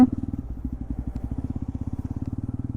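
Jawa 42 Classic cafe racer motorcycle pulling onto a highway, its engine thumping in a steady, rapid low pulse that stays close and even throughout.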